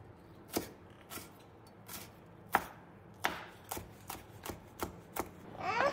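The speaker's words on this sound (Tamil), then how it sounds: "ரெண்டு பச்சை மிளகா, அப்புறம் சின்ன துண்டு இஞ்சி, அதையும் கட் பண்ணி போட்டுக்கலாம்" Green chillies and a small piece of ginger being chopped with a knife on a board, about ten separate crisp, uneven chops, close and fairly loud with no talking.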